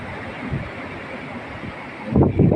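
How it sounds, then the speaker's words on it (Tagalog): Gusty storm wind buffets the microphone over large rushing ocean surf, with a louder swell of churning water near the end. "lakas ng alon talaga"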